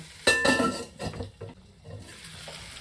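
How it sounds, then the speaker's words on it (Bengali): A metal lid is set over a pot of sago pulao: one sharp clatter up front, followed by a few lighter clinks and soft scraping in a quiet kitchen. "আমি আবার একটু ঢাকা দিয়ে যাচ্ছি"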